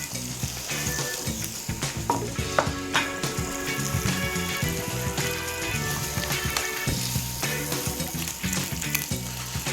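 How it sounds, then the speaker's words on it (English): Garlic and andouille sausage fry in melted butter in a hot pan, a loud, close, crackling sizzle with scattered pops and occasional stirring scrapes throughout. "Butter's melting. Put our garlic in. We're going to put andouille sausage in there also."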